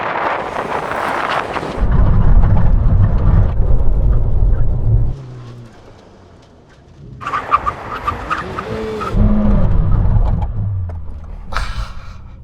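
A Lamborghini Temerario or Ferrari SF90 braking hard from 100 mph on a drag strip: loud engine roar and heavy wind buffeting, a sudden drop to quiet, then a second car surging and rumbling past, no talk.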